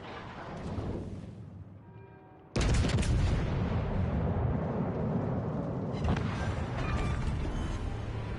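Naval gunfire from a warship in World of Warships Legends: a heavy, broadband burst of cannon fire erupts and sustains loudly, with a second wave of booming shots following, close and dense.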